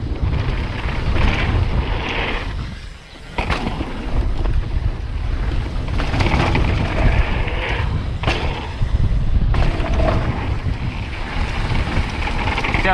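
Strong wind roars and buffets steadily past an outdoor mountain bike trail after a downhill landing on a custom-built Egerie Rad-Stonical DH bike, loud and continuous with brief dips.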